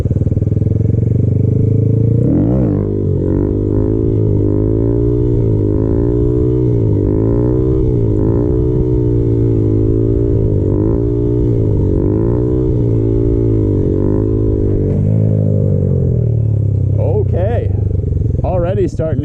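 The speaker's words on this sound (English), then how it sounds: "So most of that was honestly engine braking." Honda Grom motorcycle engine braking during handbrake practice, a loud, close engine drone that rises and falls in repeated waves as it decelerates, ending in a brief rev.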